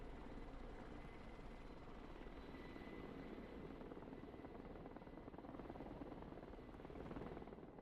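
A helicopter in the video game Broken Arrow whirs with a steady, continuous rotor and engine drone, fairly faint and unbroken, with no voices over it.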